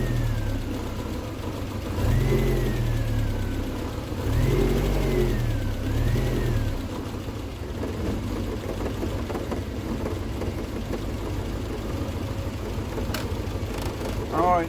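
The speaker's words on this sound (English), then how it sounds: "I want to put a couple of revs on, but not so much that's going to interrupt the advance and retard" A Triumph Spitfire engine fitted with electronic ignition gets a few short blips of the throttle, rising and falling close by, then settles into a steady, even idle for the rest of the stretch.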